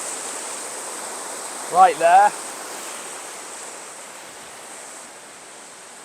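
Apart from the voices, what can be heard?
river water flowing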